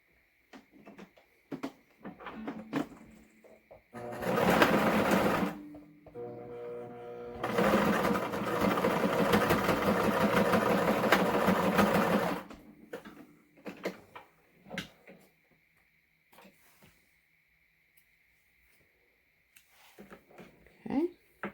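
Sewing machine stitching a fabric face mask, two loud sustained runs of rapid whirring stitches with a short pause between, followed by quieter handling clicks and brief talk.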